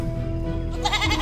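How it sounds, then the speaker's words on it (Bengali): A short goat bleat rises near the end, wavering and nasal, over a steady low hum. "হঠাৎ বেঁধে রাখা ছাগলটার অর্ধ চিৎকার শুনতে পেলাম।"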